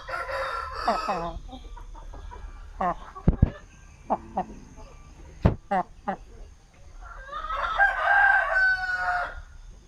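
RTL Basilan native chickens cluck and crow nearby, with sharp knocks and thumps in between and a long crow rising near the end, all without speech over them.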